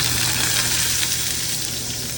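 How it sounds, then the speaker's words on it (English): Steady, dense crackling sizzle of capers frying in hot oil, continuous and fairly loud with a low hum beneath. "you can already hear that sizzle"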